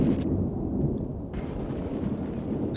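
A deep, rumbling explosion blast in Battlefield 3 fills the clip, with a sharp burst of noise near the start and another surge about halfway through, dense and continuous.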